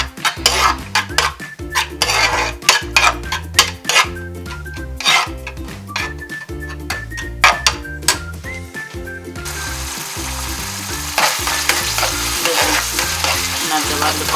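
Ethiopian firfir fries in a pan while a utensil stirs it in quick, repeated metallic scrapes and clacks over a steady sizzle, which grows louder and more continuous once the stirring stops near the end.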